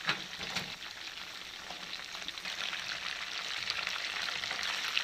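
Chicken pieces frying in oil over a raised flame to brown, a steady close hiss and crackle that grows slightly louder and denser as it goes, with no talking.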